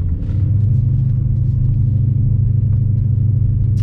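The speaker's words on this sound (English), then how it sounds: "Hopefully you guys can hear me over the exhaust noise." Deep, steady exhaust rumble from a 2013 BMW E92 M3 while driving, loud and close with a constant low drone from inside the car and no talking.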